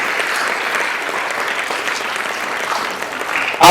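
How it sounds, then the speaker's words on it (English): Audience applauding as prefects step forward at a primary school prefect investiture ceremony in Nairobi, a steady, dense wash of clapping sustained throughout with a louder burst at the very end. "As the prefects come forward, let us applaud their efforts"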